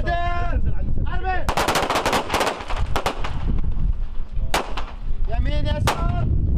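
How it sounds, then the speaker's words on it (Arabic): Pistol shots ring out at an Iraqi Army combat pistol qualification in Baghdad, a rapid loud burst of cracks followed by a few single shots, with shouted commands before and after. "اطلاقه واحده كل ما تسمع ارمي اطلاقه واحده يمين يسار"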